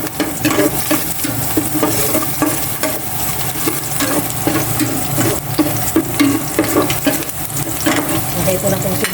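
Garlic browns in oil in a pan for pork adobo while a utensil stirs it vigorously, giving loud close scraping strokes over a constant hissing sizzle.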